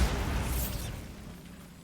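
A Bombarda spell goes off in Hogwarts Legacy, a loud low boom at the start that fades into a rumbling decay.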